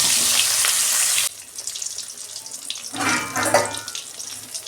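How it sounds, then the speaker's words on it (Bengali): Three fish fry in hot white oil, a loud, bright hissing sizzle that drops away suddenly, then swells again in a crackling burst before settling to a quieter spatter. "তেল গরম হয়ে গেছে, আমি মাছ 3টে ভেজে নিচ্ছি।"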